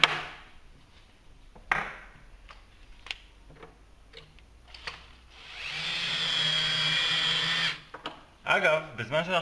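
A power drill drives screws into a wooden door hinge, starting with short clicks and brief whirs, then a sustained whining run, followed by choppy bursts, close up with some talking around it.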